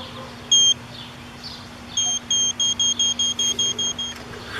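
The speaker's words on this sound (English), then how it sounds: "We have the collar set to beep" A series of short, high electronic beeps from an invisible dog fence collar near the boundary line, one early then about a dozen in steady quick rhythm, over faint outdoor background.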